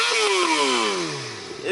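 A Suzuki GSX-R600 sport motorcycle with a new exhaust, decibel killer still fitted, revs sharply and then winds down, a close, loud engine note that falls in pitch over under two seconds.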